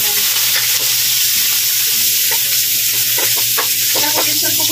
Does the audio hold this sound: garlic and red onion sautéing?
yes